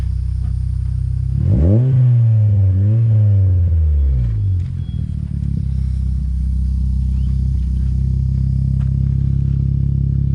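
Exhaust of a turbocharged Honda CR-Z after an exhaust fix: a single strong rev swells and wavers for a few seconds, then falls back to a loud, steady low idle.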